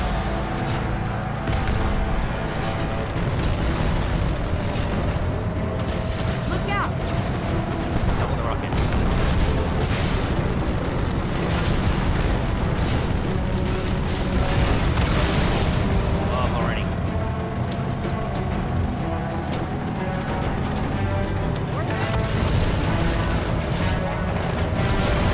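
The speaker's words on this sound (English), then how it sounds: "See, that's a direct hit from the main gun, and it still goes." In the Halo 2 game, a tank's main gun fires amid dense, continuous battle noise with rumbling booms and explosions, loud and close throughout, with talk beneath.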